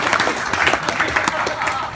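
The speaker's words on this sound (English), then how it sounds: "round of applause for Pete Tampion" A pub-style live audience gives a short, busy round of applause for Pete Tampion, dense clapping close by and filling the whole two seconds, with some voices mixed in.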